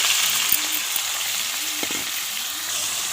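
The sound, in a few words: ground masala frying in hot oil in a kadai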